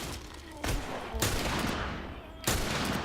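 Gunshots in The Last of Us Part 2, three or four separate sharp bursts spaced about a second apart, moderately loud over a steady noisy ambience with faint background voices.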